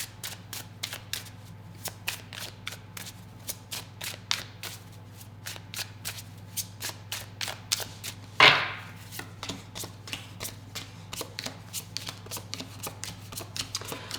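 Tarot cards being shuffled by hand at close range, a quick run of crisp riffling snaps and flicks with one louder slap midway, quiet background and no speech.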